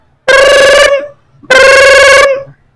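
A voice imitates a bicycle bell with two separate ringing, tonal bursts of about half a second each, loud and close, with a short gap between them.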